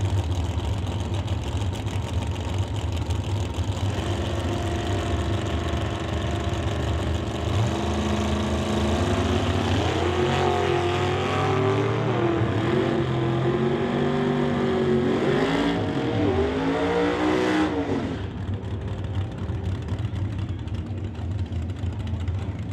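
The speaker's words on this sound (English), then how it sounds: "So a pair of them firing down the racetrack." A pair of drag racing dragsters idle loudly on the racetrack, then roar off the line together with a building, rising blast of engine noise before cutting away abruptly.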